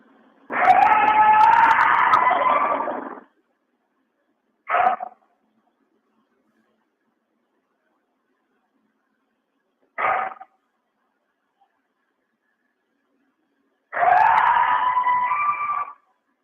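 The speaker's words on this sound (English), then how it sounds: "This is a Cincinnati, Ohio Dogman." A played recording of an alleged Dogman howl from Cincinnati, Ohio: two long, wavering, pitched howls about three seconds each open and close the stretch, with two short yelp-like calls between them, each standing alone against near silence.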